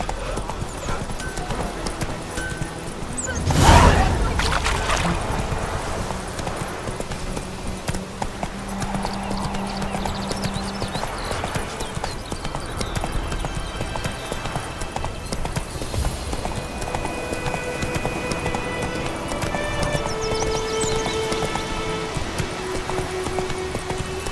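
Roach, Geralt's horse in The Witcher 3, trots with a steady clip-clop of hooves over a dense game soundscape, with a sharp loud burst early on and faint ambient tones throughout.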